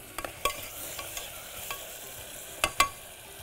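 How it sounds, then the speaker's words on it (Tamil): Ingredients being sautéed in a pan, a soft steady sizzle with several sharp spoon scrapes and clinks against the metal, close and alone without talk. "இது நல்லா வதங்கணும்."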